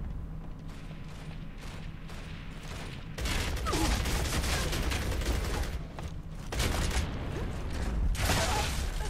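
Rapid gunfire in Gears of War: Judgment during an online Domination match, with loud sustained bursts of shots and mechanical rattling that cut out briefly and then resume.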